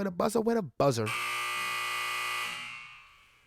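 A voice speaks briefly, then a loud, steady electronic buzzer drones for about two seconds before tapering off.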